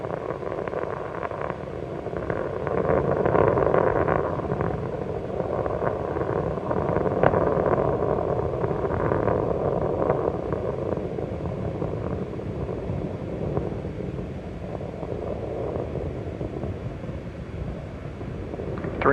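Space Shuttle Columbia's three liquid-fuel main engines roar at full throttle during the STS-87 launch, a steady broadband rumble heard from a distance that holds continuously without break.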